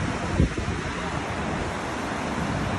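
Takakkaw Falls in Yoho National Park, a roaring waterfall, pours as a loud, steady broadband rush through the whole stretch, with wind buffeting the microphone and a brief thump near the start.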